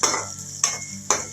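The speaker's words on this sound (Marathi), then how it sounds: "कांदा गुलाबी होईस्तोपर्यंत तळायचा" Onion frying in a pan until pink for upma, three quick spatula scrapes stirring through the sizzle, close and evenly spaced.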